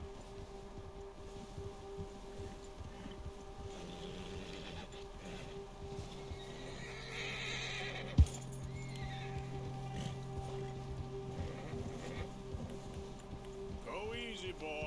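A horse whinnies and snorts while hooves clop softly along a trail in the video game Red Dead Redemption 2, with wind noise in the background and one sharp thump partway through.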